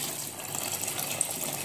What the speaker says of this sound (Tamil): மசாலா சாந்து வேகிற அளவுக்கு தண்ணி ஊற்றிக்கலாம்.